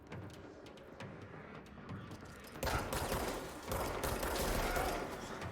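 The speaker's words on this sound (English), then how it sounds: "There's still someone else shooting." An enemy fires at the player in the video game Control, producing a rapid crackle of gunshots that rises into a denser, louder burst of fire halfway through, heard amid game noise.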